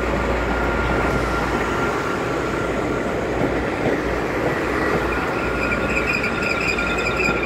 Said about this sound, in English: Oh, and there's our train.